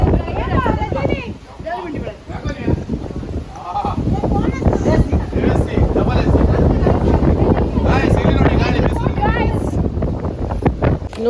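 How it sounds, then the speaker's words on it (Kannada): Strong wind blowing in from the Arabian Sea buffets the microphone with a rough, gusty rumble that continues under a person talking. "ಈಗ ಅರಬ್ಬಿ ಸಮುದ್ರದಿಂದ ಬರುವ ಗಾಳಿಗೆ"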